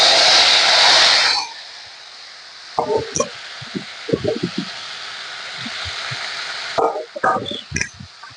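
A loud burst of hissing sizzle as steamed ash gourd hits hot oil tempered with dried chilli and cumin, then a softer, steady frying hiss beneath a voice speaking nearby.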